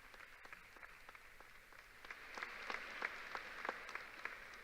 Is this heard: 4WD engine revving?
no